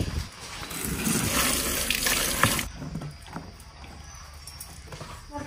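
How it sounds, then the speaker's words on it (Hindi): Tap water runs loudly over freshly peeled onions and green chillies being washed, a steady splashing rush for about two and a half seconds, then the flow stops and quieter handling and dripping sounds follow. "अब इसको अच्छा से धो के और काटेंगे।"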